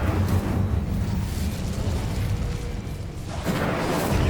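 A fire spell blast in Hogwarts Legacy gives a steady, loud rushing roar with a low rumble, swelling again near the end, and no voices.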